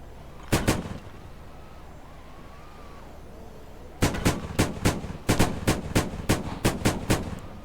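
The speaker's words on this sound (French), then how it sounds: "tire des missiles" Tank cannon and missile fire in Roblox tank combat, two sharp booming shots followed after a pause by a rapid string of about a dozen loud blasts in quick succession.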